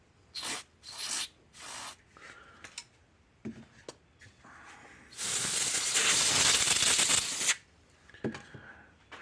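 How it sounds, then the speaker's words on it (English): A few short bursts followed by a long, loud hissing spray of cleaner lasting about two seconds onto an electric fence energizer, then a couple of faint clicks and rustles. "Spray it off and just make sure it's clean."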